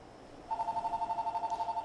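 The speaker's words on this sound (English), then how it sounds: "Why is there a phone call?" An in-game telephone ringing in Fallout 76: a quiet, steady electronic trill of rapid regular pulses that starts abruptly and continues alone for over a second.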